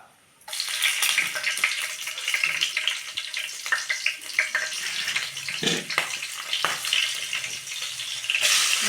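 Onions and green chillies hit hot oil and break into a sudden loud hiss and crackle that continues steadily, close up, with scattered pops and a few clinks.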